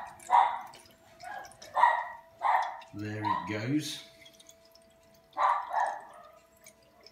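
A dog barks a few short, fairly close times in a home brewing setting, between stretches of someone talking and a brief mechanical pump whine.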